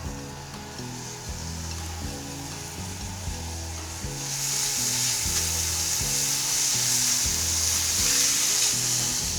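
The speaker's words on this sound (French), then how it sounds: "Je vais faire chauffer un petit filet d'huile d'olive. Puis attendrir les oignons pendant environ" Onions frying in a thin drizzle of olive oil in a pan, a steady close sizzle and crackle that grows louder and brighter about halfway through, with rhythmic scraping of a utensil stirring underneath.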